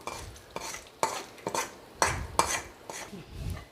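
A spoon scrapes and clinks against a metal pot of yellow pumpkin and red cowpea kootu as tempering is stirred in, irregular strokes, close up, with a soft wet stirring texture between hits.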